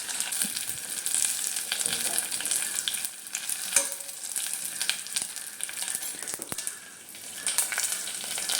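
Kerala sambar tempering of fenugreek, mustard seeds, chopped shallots and curry leaves sizzling in hot oil, a continuous crackling fry with occasional sharp pops and stirring, close and steady.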